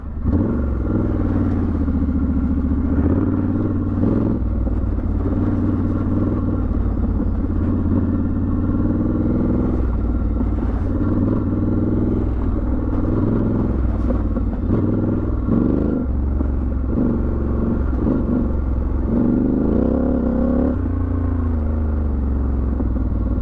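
A Triumph Scrambler 1200 XE motorcycle pulls away off-road in second gear on a muddy moorland track beside a big puddle. Its engine throbs steady and close, with bumps and rattles over rough ground throughout.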